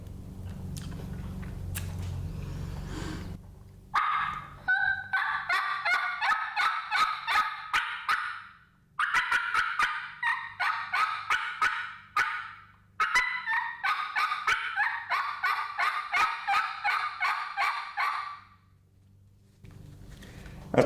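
A hunter's batwing mouth call imitates a wild turkey with loud, raspy cutting bursts in three long rhythmic runs of sharp clucks and yelps, close and piercing, with short pauses between runs.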